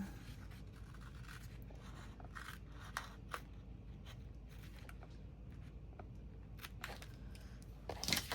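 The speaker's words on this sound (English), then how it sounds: "And then I'm going to cut straight over." Scissors snip through paper along a score line while an envelope is cut, quiet, close crisp cuts repeating irregularly over a faint background hiss.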